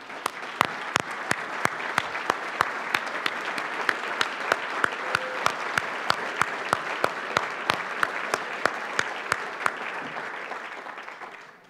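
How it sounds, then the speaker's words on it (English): Steady audience applause fills a formal anniversary gala in Washington, D.C., with dense, even clapping that holds near and loud for about ten seconds before tapering slightly at the end. "So I'd ask them also to stand for a round of applause and appreciation."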